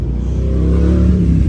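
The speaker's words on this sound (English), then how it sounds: "sorry about the traffic. Could get the worst cars through here" A car accelerates past on a road by a yard of palms in Albuquerque, a loud, close engine rumble that swells steadily as it goes by.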